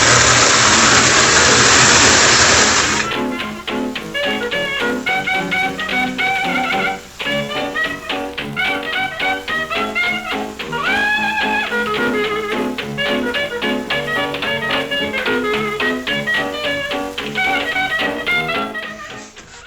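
Vintage Marx 1666 toy locomotive running on track while pulling a string of Marx cars, giving a steady mechanical whir with rapid clicking and rattling that continues without pause after a brief louder burst at the start.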